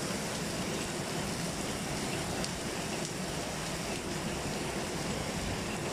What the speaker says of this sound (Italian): sembra proprio un fiume che sta scendendo